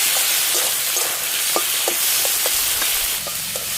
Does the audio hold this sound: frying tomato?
yes